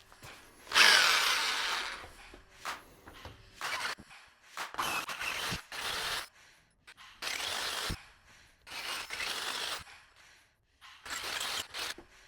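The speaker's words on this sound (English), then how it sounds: "we finished drilling the hole" Power drill enlarging a hole in the kickstand of a 1979 Honda CBX motorcycle, running in repeated bursts of a second or two with brief pauses, close and fairly loud, the bit grinding against metal.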